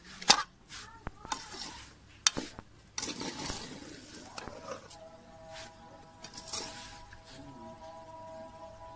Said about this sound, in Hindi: आपने इसको हिलाते रहना और अच्छी तरह इनको भून लेना घी के अंदर